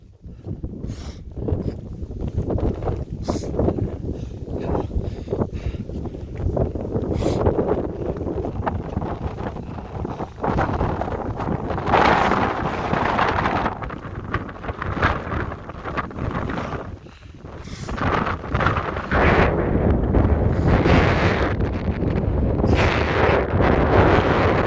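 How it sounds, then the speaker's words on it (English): Strong gusting wind of about 60 mph buffets the microphone high on Longs Peak, a continuous loud roar with surging gusts and brief lulls, no talking. "It's just like a wind tunnel over there. It's like 60 miles an hour."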